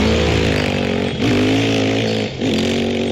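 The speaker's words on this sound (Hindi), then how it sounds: "तुरंत अपना स्कूटर स्टार्ट करते हुए उस पर बैठकर इस बात की खबर देने वह गुल्ली बुल्ली के घर की तरफ चल देता है" A cartoon scooter engine drones loudly and close, revving in a buzzy, steady whine that dips twice as the throttle shifts before the engine picks up again.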